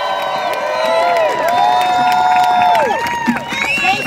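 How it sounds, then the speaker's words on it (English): An outdoor crowd at a St. Patrick's Day 2020 event in New York cheers and applauds for Congresswoman Alexandria Ocasio-Cortez, a loud sustained roar of clapping and whoops with shouted voices rising and falling. "give a big round of applause to Congresswoman Alexandria Ocasio-Cortez."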